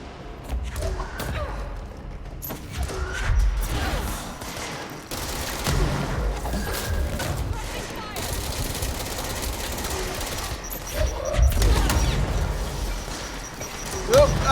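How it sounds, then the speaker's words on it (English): Grenades explode in rapid succession in the video game Control, with repeated heavy thumps and blasts layered over busy combat noise, loud and continuous, while a voice talks over it. "Oh, God, so many grenades!"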